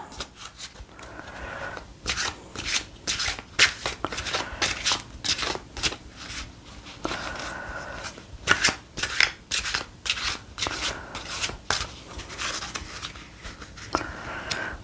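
Tarot cards are shuffled and handled on a table, crisp repeated riffling and sliding bursts in an irregular rhythm, close and fairly quiet, with no talking.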